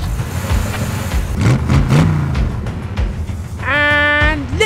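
Engine revving from a toy race car demolition-race start, a rough mid-pitched roar that swells and rises, ending in a rising whine.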